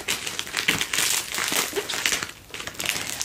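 A small parcel's packaging is torn open by hand, with steady crinkling and crushing of wrap in close, uneven bursts and no talk over it.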